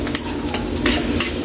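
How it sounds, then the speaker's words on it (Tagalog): Garlic frying in melting butter for a shrimp dish crackles with a steady, close sizzle, broken by soft stirring scrapes. "Habang pinapalawsaw natin Kaylee yung butter natin, ilalagay na natin yung bawang."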